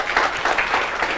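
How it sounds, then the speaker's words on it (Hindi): Applause from a class of students at the end of a law revision lecture, a steady burst of clapping filling the short moment with no talk over it. "एक बार जोरदार ताली आप लोग सब।"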